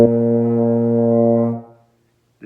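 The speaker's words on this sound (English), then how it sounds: "Now see if you can play note number 1 like this." A single sustained low note on a baritone horn, held steady for about a second and a half before fading out, played alone and close.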